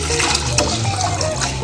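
Water pours into a cooking pot in a steady, close, gushing splash with no pause.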